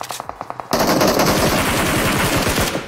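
An MG3 machine gun firing in PUBG Mobile, first a short string of distinct rapid shots, then a loud, continuous high-rate burst that rattles on for about two seconds before stopping.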